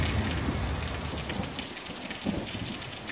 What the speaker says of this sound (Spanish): Solo es una tormenta.